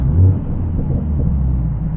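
A Mercedes CLA45s AMG downshifts on a dual carriageway, a steady low engine rumble with a brief swell near the start, heard from inside the car with no talking.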